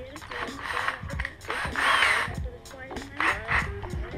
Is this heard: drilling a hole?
yes